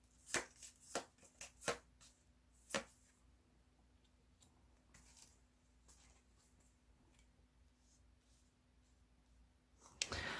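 Tarot cards shuffled and laid out on a table during a reading: a handful of crisp slaps and card snaps near the start, a quiet stretch with soft faint shuffles, then another sharp card sound at the end, no talking.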